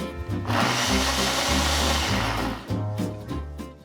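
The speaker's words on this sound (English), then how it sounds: "I'm not gonna use all of this liquid, just enough to get the blender moving." A blender blitzes roasted vegetables and dried chilies with a little liquid into a smoky salsa, a loud continuous grinding whir that pulses and dips in rhythm as the contents churn, with no talk.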